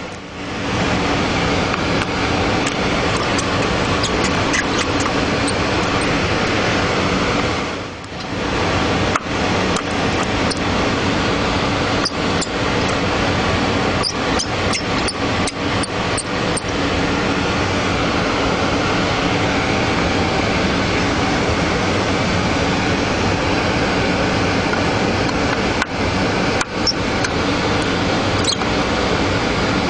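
Steady, loud broadband rush of ventilation air in a hard-disk repair clean room fills the whole stretch, with faint clicks and a brief dip partway through.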